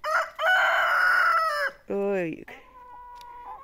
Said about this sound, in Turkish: Üç tane horozu var ablamın.